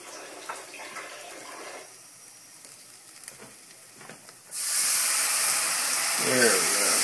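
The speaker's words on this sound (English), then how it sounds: "I'm going to add just a touch of water in this." Water poured into a hot pan of turkey chili seasoned with cumin and oregano, a sudden loud hiss and sizzle that bursts in partway through after quieter kitchen sounds and holds steady to the end.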